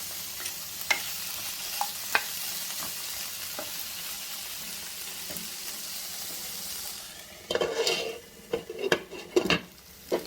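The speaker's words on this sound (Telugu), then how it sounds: "ముందు నూనెలో వేయించుకున్నాక టమాటా ముక్కలు వేసుకుంటున్నానండి." Tomato pieces fry in oil in a pan for a brinjal peanut chutney, giving a soft, continuous sizzle with occasional light taps. A louder burst of stirring and clattering comes near the end, and no one speaks.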